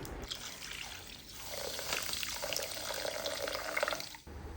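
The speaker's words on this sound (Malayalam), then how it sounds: "ഇനി കറിക്ക് ആവശ്യമുള്ള വെള്ളം ചേർത്തിട്ട് ഇതിനെ ഒന്ന് ലൂസാക്കിയെടുക്കണം" Water pours steadily into a fish curry pot up close, a continuous splashing gurgle with no voices.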